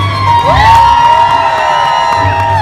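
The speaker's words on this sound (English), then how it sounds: "let me hear you scream" A live audience at a motivational one-woman show screams and cheers loudly, a sustained wall of whoops and shouts, with high voices rising and falling throughout.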